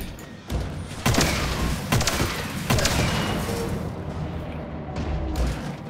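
Gunshots in the video game Wolfenstein Youngblood, a handful of loud, sharp blasts spaced across a dense, noisy game soundscape.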